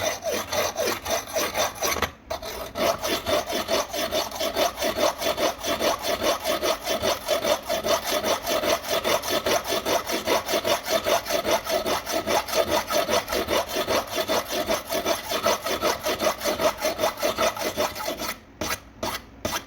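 A knife blade drawn repeatedly across Spyderco Sharpmaker ceramic stones, a loud, close, rhythmic rasping of quick strokes that continues almost without pause, with two brief breaks and no voices.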